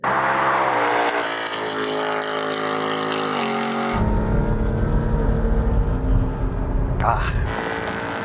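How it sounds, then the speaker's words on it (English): A Ford Mustang's 5-litre naturally aspirated V8 petrol engine roars under load in a drag race against a BMW M2 Competition, its pitch climbing and then dropping into a rough, rumbling drone, with voices mixed in near the end. "launching a 5-litre naturally aspirated V8 petrol engine on a performance vehicle?"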